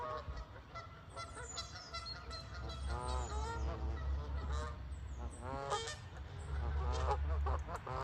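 A flock of geese honks repeatedly, overlapping nasal calls rising and falling over a low steady rumble, fairly close.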